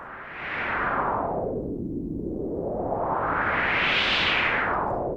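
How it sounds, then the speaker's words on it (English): A resonant synthesizer pad, whooshing like wind whistling through trees, sweeps down in pitch and then rises again in one long continuous swell. "When you add the resonance, it makes it sound like winds whistling through trees."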